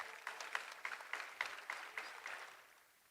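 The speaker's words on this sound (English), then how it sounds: "May you please have a round of applause for them." Audience applause for award recipients at an awards inauguration ceremony, a quiet, somewhat distant patter of clapping with a few sharper individual claps, fading out toward the end.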